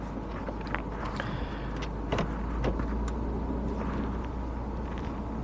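Steady road rumble and suspension noise fill the cabin of a 2012 Mini Cooper hatch on the move, a constant low drone with occasional small knocks and rattles.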